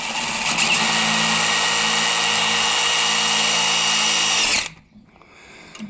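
Power drill driving a screw into an old lift arm seal on an Oliver/White tractor, a loud steady whine for several seconds that then stops abruptly, leaving quiet handling noise.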